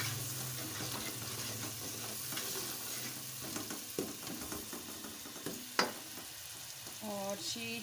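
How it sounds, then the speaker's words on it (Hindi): Spices fry in a pan with a little water, a continuous sizzle broken by scraping spoon strokes and a few sharp knocks against the pan. "अब मैं इसको अच्छे से भून लेती हूँ फिर।"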